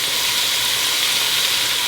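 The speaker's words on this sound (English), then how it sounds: "So now we have an even sizzle." Steady, dense sizzling from chicken frying in a hot oiled pan, a constant bright crackle-hiss with no pauses, close and loud.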